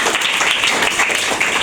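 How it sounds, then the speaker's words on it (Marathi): A children's school assembly applauds a girl, with loud, dense and continuous clapping from many small hands in a room. "सर्वांनी टाळ्या वाजून"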